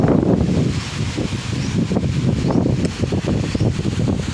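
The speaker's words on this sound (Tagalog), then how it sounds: "malakas na yung hangin" Strong wind gusts after Typhoon Kristine roar into the microphone, buffeting in low rumbling waves with rustling underneath, continuous and loud.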